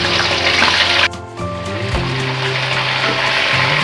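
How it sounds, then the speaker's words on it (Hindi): Raw chicken, one kilo, drops into hot oil in a wok for Peshawari Shinwari karahi, a broad loud hiss and sizzle with a brief dip and crackle as the pieces go in, then a steady frying roar. "जिसके लिए हमने ऑयल ले लिया है, गर्म हो गया है, इसमें हम चिकन डाल देंगे।"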